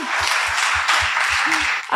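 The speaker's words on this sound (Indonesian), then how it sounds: "Tepuk tangan dulu dong." Applause from a crowd fills the room, with a steady low thumping beat pulsing underneath before the clapping dies away.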